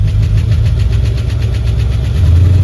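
A 1964 Plymouth Fury engine idles close up with a rapid, steady lifter tick running through its low rumble.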